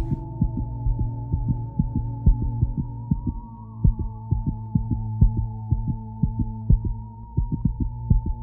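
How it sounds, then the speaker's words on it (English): A heartbeat in the video game The Void, steady rhythmic double thumps repeating throughout over a constant low hum and a faint high tone, loud and close with no talking. "Listen to this heartbeat."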